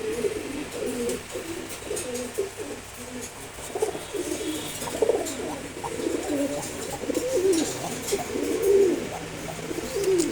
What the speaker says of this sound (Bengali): আমার খুবই প্রিয় এক জোড়া কবুতর।